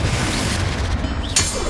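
A Confringo blasting curse explodes in the Hogwarts Legacy video game, a loud, dense, noisy boom with rumbling low end and a sharp crackling burst near the end, close and alone.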